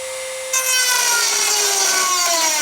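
A cutting tool bites into a metal rear bash bar for a Nissan 240SX S13, starting abruptly after a moment of quiet into a loud, continuous, whining rasp that holds steady to the end.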